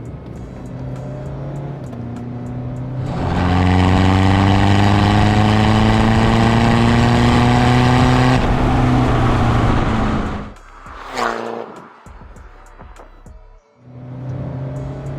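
A stock-turbo BMW 320d diesel engine, in sport mode, rising through a loud, steady surge of rising revs for several seconds, then backing off with a brief blip and a short quieter pause before picking up again.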